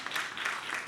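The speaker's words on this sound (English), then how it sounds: "clap it up for her" A short burst of steady audience applause at a community engagement session in a Poolesville High School venue, dense, close clapping with no pause.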